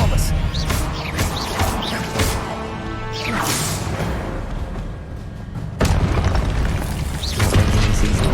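In the video game Hogwarts Legacy, the Expelliarmus spell and other combat spells are cast as loud magical bursts, booms and whooshes in quick succession, with a crash-like swell near the end and voices mixed in.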